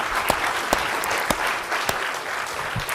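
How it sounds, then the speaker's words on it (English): Audience applause at a gathering honoring couples: a steady wash of many hands clapping at moderate volume, with a few sharper individual claps standing out near and clear throughout. "Let's give them a round of applause."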